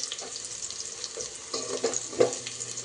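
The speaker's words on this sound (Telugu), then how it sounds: "ఆనియన్స్ వేగుతున్నాయి ఫ్రెండ్స్, ఇంకా కొంచెం వేగాలి" Onions frying in a pan for mushroom biryani, a soft, steady sizzle with faint stirring scrapes and small clinks, fairly quiet and heard alone.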